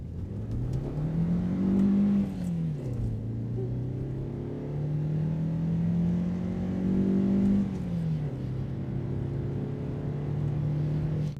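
A 1983 Honda Prelude engine revving up through the gears, pitch rising then dropping at each shift, loud and close with no talking.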